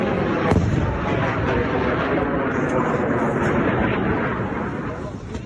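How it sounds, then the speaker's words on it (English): Heavy, continuous rumbling blasts from an Iranian missile strike on Tel Aviv's defense system, loud and dense with one sharp crack early on, forming a sustained roar of multiple explosions. "An Iranian missile accurately targeted the Tel Aviv defense system, causing the enemy's defense missiles to fly and fall, hitting themselves with multiple explosions"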